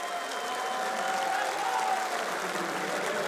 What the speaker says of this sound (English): a big round of applause for Virtus.pro.